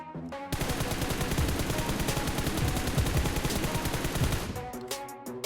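A sustained, loud burst of rapid automatic gunfire rattles nonstop for about four seconds while aiming down sights in PUBG Mobile, then cuts off abruptly, with no talking.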